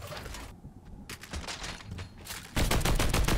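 An LMG light machine gun in Fortnite fires in bursts of rapid shots, with a short gap, then a loud sustained stream of fire at the end, close and without talk.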